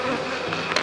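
Honeybees buzz steadily and close at a honey apiary in Comalapa, a dense continuous insect drone with no speech.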